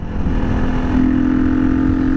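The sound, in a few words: motorcycle engine revving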